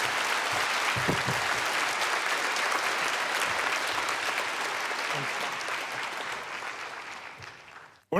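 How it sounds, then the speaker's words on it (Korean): A congregation at an early-morning revival service in a large church applauds to welcome the pastor, a sustained dense clapping with a few murmurs underneath that gradually softens and ends abruptly. "우리 목사님 나오실 때 박수로 환영하겠습니다"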